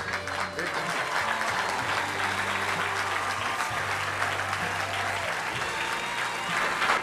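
Steady applause from an awards ceremony audience, sustained and dense throughout, with a voice speaking over the clapping.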